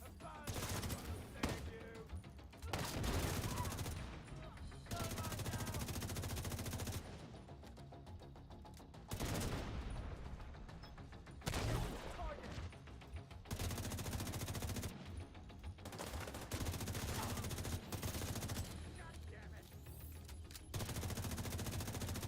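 Rapid bursts of automatic gunfire and single shots crack repeatedly in a shooter video game, loud and dense with brief pauses between volleys.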